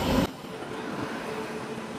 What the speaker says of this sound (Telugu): ట్రైన్ వచ్చింది.